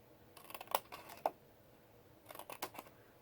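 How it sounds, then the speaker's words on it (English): Scissors cutting small notches into scored cardstock for a paper craft treat holder, in two short clusters of crisp snips and clicks, close and quiet, with no talking. "And then you're going to cut some notches"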